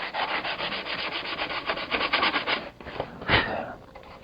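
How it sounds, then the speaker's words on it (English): Soft balsa-like wood on a model aircraft's molded wingtip being sanded by hand, a steady close rasping rub in repeated strokes with a brief louder scrape near the end. "I don't want to sand too much on this because"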